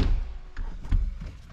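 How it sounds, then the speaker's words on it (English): A BMW 640d M Sport Gran Coupe's door is pulled shut from inside, giving a short muffled thunk close by, with faint cabin rustle before and after. "let's close the door"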